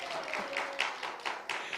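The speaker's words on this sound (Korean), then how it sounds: "박수!" Congregation clapping in rhythm during a Korean church sermon, a series of sharp, roomy claps in a steady beat, moderately loud with no talking.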